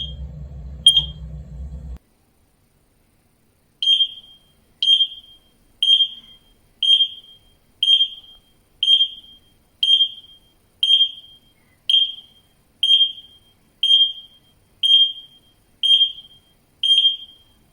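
A brief rumble, then a Wisualarm wireless carbon monoxide alarm chirps alone in a steady rhythm, about fifteen sharp, high beeps roughly one second apart.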